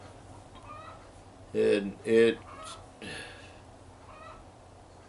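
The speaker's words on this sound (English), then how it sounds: "I wish that hen would quit cackling." A hen cackling nearby with two loud, sharp squawking bursts close together, then a fainter call, over quiet background noise; a person speaks briefly.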